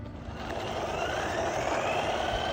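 A DeeRC 9207E brushed 1/10-scale RC truck runs at full throttle out of the box, its electric motor giving a steady, rising whine with broadband road noise that holds level throughout, fairly close and continuous.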